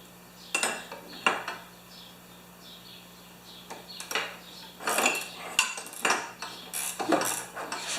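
Metallic clinks and taps from a tool working a retainer nut on a 30-inch YardWorks snowblower with a reverse slipping fault, coming in close, uneven bursts over a steady background hum.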